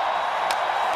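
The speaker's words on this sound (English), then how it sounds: "Listen to the crowd here right now in Pittsburgh" A hockey arena crowd in Pittsburgh cheers after a Penguins win, a steady, distant roar of cheering and clapping with faint voices inside it.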